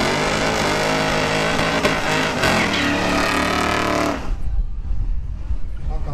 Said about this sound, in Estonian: Ilus burnout.